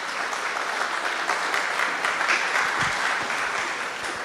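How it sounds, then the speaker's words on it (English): Lecture audience applauding early in the morning, a steady dense wash of many hands clapping that holds evenly throughout without any voices. "So give yourself a round of applause."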